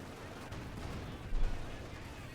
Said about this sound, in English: Constantly getting bombarded.